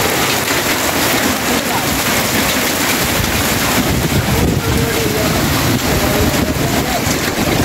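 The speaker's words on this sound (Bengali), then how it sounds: "সেই ঝড় বৃষ্টি নাটোরে, সেই ঝড় বৃষ্টি।" Severe storm in Natore with heavy rain, strong wind and large hailstones, a loud unbroken roar of downpour and gusting wind buffeting the microphone throughout.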